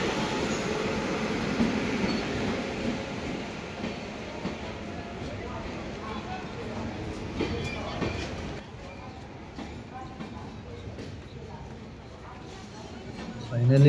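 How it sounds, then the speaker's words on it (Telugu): A passenger train rolls into a crowded railway platform on the Hazrat Nizamuddin to Amritsar route, its wheels rumbling and rattling steadily and loudly. Voices murmur from the waiting crowd over the train noise. "ఫైనల్లీ ట్రైన్ అయితే వచ్చేసింది,"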